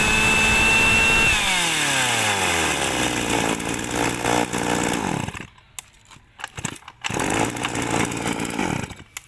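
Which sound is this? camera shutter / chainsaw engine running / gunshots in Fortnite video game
chainsaw engine running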